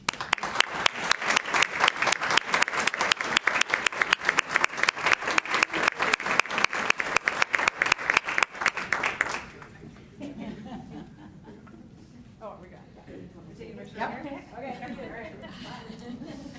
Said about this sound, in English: Let's give one more round of applause for these fabulous people